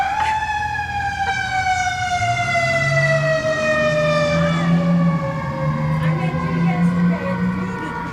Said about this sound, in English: we'll let the fire truck go by